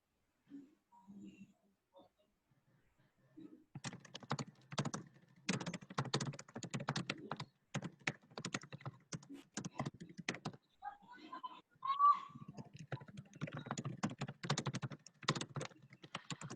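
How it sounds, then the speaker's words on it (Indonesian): Rapid typing on a computer keyboard, dense bursts of close clicking keystrokes with brief pauses, quiet and alone after a soft start. "Coba saya juga sekalian ketik."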